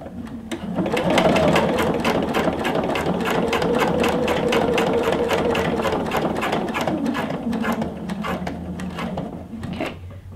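A sewing machine runs steadily, stitching a patch onto the sleeve of a scrubs top, its rapid needle clatter continuous and close for about ten seconds before stopping.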